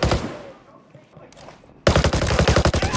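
FAL rifle fire in the Ghost Recon Breakpoint video game, an opening burst that decays into a quiet echoing tail, then a loud rapid string of close shots.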